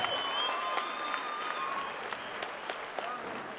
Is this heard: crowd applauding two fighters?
yes